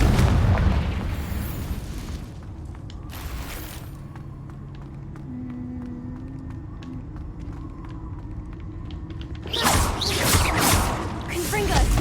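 Confringo fire spells exploding in Hogwarts Legacy: a sharp burst early on, a quieter stretch with faint tonal game sounds, then a loud, extended blast near the end.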